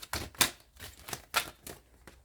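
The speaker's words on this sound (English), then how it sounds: "let me shuffle these cards up a little bit" Tarot cards being shuffled by hand, heard close up as a series of crisp, papery riffling bursts at uneven intervals, with no talking.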